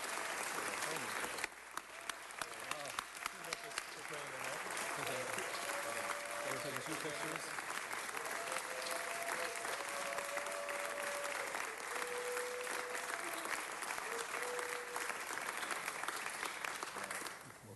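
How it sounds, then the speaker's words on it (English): A council chamber audience applauds pioneer Alan Bell with a long, steady round of clapping lasting well over fifteen seconds, dense and sustained at an even level throughout, with some faint background voices. "Let's give a big round of applause for pioneer Alan Bell."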